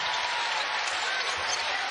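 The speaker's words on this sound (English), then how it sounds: "That gets the applause." A basketball crowd breaks into applause after a rebound, a dense and even wash of clapping and cheering that holds steady for the whole short stretch.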